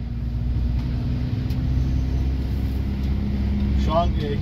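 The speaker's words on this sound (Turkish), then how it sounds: "Şu an gidişinde ufak da olsa bir motor sesinde falan böyle bir incelme var yani." A Peugeot Boxer van's engine drones steadily while driving after an oil and fuel filter change, a constant low rumble with road noise filling the cabin throughout.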